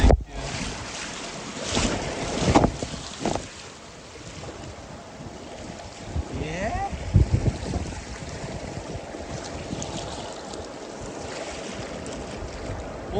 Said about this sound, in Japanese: 左流れの激流がマイルドになっちゃってる